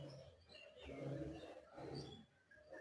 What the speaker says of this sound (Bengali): আর এই যে পাখিগুলো সকাল হলে ডাকে